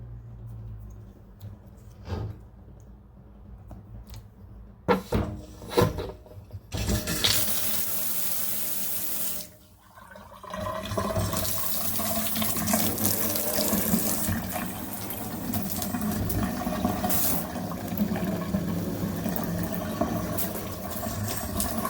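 Tap water pours steadily into a kitchen sink to test a newly installed basket strainer and drain, beginning with a few clunks and knocks before a loud, continuous gush fills the rest of the clip with no talking.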